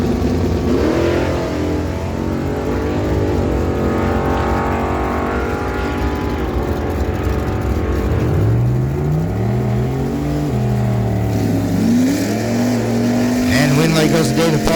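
An 81 GMC Sierra and a 67 Chevy Camaro make a drag run at Miramichi Dragway, engines roaring loud and revving through rising gear sweeps, with tires squealing near the end while an announcer talks over it.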